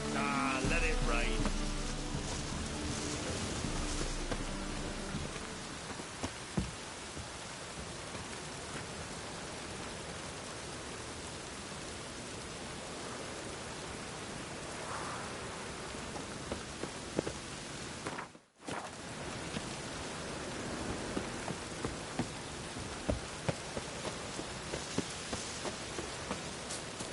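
Steady rain pours throughout a rainy scene in The Witcher 3: Wild Hunt, a constant hiss with brief footsteps and scattered clicks, and one sudden dropout midway.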